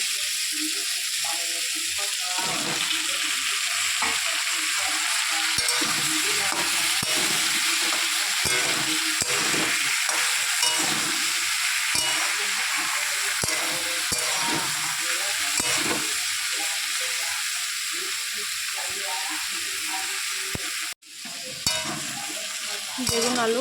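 Eggplant and potato pieces sizzle steadily in oil in a pan and are stirred now and then, a continuous close frying hiss with a brief clatter near the end.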